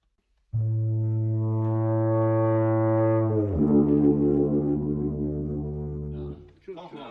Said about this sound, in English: we have the best foghorn in the world